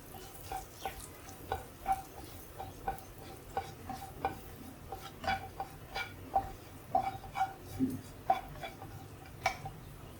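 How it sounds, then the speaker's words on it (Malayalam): A spoon scrapes and stirs spice masala with Kashmiri chilli powder in a pan, a steady, rhythmic series of taps and scrapes over a soft sizzle. "ഇത്രയും ചേർത്ത് നന്നായിട്ടൊന്ന് ഇളക്കാം"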